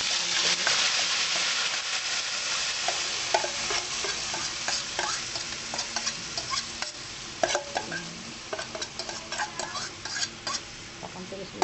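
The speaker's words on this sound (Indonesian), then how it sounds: "kita akan tumis bumbunya yang tadi di blender ya" Blended spice paste sizzling and frying in hot oil in a pan, with repeated scraping and stirring strokes, close and fairly loud throughout.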